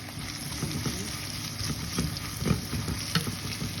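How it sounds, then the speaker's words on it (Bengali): Chopped onions and green chilies fry in a pan with a steady, faint sizzle, with occasional soft stirring knocks against the pan underneath. "এখানে একটু হালকা ভাজি করে নিচ্ছি"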